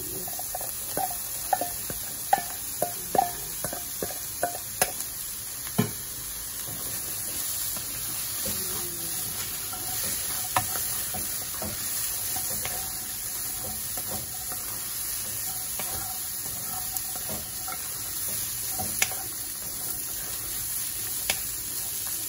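Green beans sautéing in a pan for Filipino ginisa, a steady soft sizzle with scattered clinks and stirring taps near the start, no talking.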